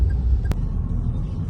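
Heavy road traffic in Sonapur, Dubai, where large Ashok Leyland buses and trucks are on the move. A steady low engine rumble holds throughout, with one sharp short bang near the start.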